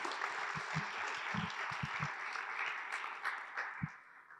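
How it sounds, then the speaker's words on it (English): Sustained applause from a conference audience after a presentation, steady clapping filling the room with a few sharper claps standing out, no voices over it. "Let's give it a round of applause."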